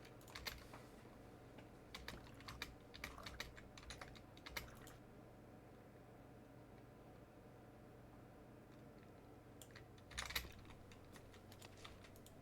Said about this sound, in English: That's the sound that the speedrunner's keyboard makes.